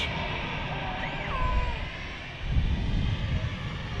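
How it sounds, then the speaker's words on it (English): A plane on approach at Manchester Airport gives a steady, broad engine roar that swells a little louder in the second half, heard from the ground at moderate distance. "We've got another aircraft on approach as well, by the way, guys."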